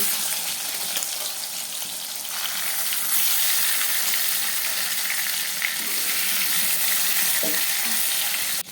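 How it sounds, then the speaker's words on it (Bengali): Barramundi fish fries in hot oil with a continuous, loud sizzle and crackle, a few faint clicks of utensils near the end. "তো এইভাবে আমি বাকি মাছগুলো সব ভেজে নেব"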